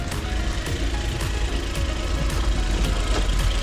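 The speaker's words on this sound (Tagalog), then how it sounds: "So ito yung makina natin na K6E engine, 660cc, 64 horsepower, 4-speed automatic transmission." Idling K6E 660cc three-cylinder engine of a top-of-the-line mini van, heard close up as a steady rumbling drone with a faint rhythmic pulse, no talking over it.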